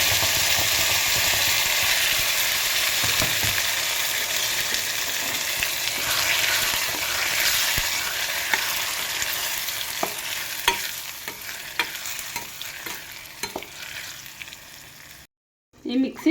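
Ground masala paste sizzles and spatters in a pan for paneer gravy with bay leaf, a loud continuous crackle that slowly thins, broken by scraping stirs near the end before a brief drop to silence.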